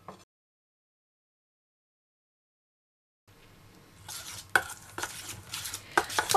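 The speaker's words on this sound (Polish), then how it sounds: "I teraz niezbyt drobno go osiekam." A knife chops chives on a board. After a long silence come quick, close, irregular taps and clatter that build in loudness toward the end.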